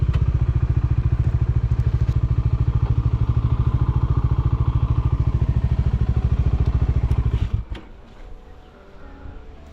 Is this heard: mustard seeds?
no